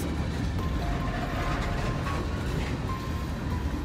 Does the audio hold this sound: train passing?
yes